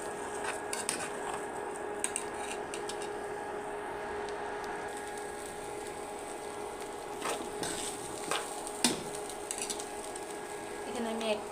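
Rice frying in a pot with a little ginger, a low steady sizzle with occasional metal utensil clinks and scrapes against the pot, a voice speaking over it.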